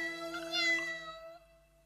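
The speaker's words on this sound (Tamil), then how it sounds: "என்னப்பா அது இத்தனை பூனைங்களா?" A cartoon cat gives a clear, close meow that rises and falls over about a second, then trails off into quiet, with no talk over it.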